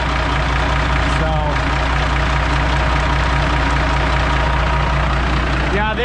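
A Kenworth K100E Aerodyne cabover truck engine idles steadily up close, a loud, constant low diesel rumble throughout, with belts and pulley spinning and no chirp.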